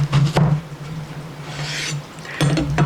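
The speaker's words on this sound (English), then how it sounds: "And then I'm going to cut it into a 1/4 to 1/2 inch thickness" A knife slices a vegetable into 1/4 to 1/2 inch thick strips on a board, with a few soft rasping cuts and short knocks at the start and again near the end, close and moderately quiet.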